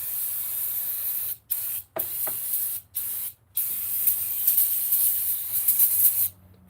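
Compressed air blows in several loud hissing bursts with brief gaps while an F150 valve cover is cleaned, ending in a longer continuous blast.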